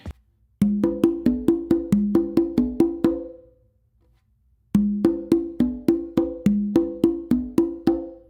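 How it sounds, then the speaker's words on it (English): A conga drum plays a steady pattern of sharp, resonant open hits, two runs of about ten strokes separated by a short pause, close and clear. "an open with our non-dominant hand on the conga"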